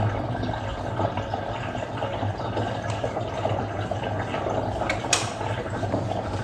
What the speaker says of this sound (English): See water draining.